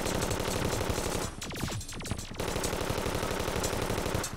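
Rapid, continuous machine gun fire in the video game Terraria rattles loudly and evenly, broken by one short pause carrying a few descending tones before the steady burst resumes.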